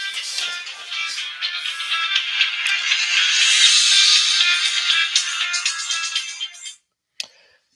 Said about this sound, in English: sorry about that. My phone went off.